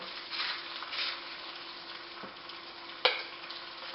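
Sliced potatoes frying in a pan on low to medium heat give a steady close sizzle with light crackle, with a single brief clink partway through and no voices.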